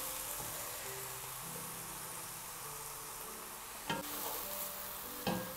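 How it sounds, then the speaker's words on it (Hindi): Grated carrots roasting in a pan for gajar ka halwa, with a faint steady sizzle and two brief spoon clinks against the pan, with no talk. "देखें, गाजरें भुन रही हैं और इनका कितना अच्छा सा कलर आ गया।"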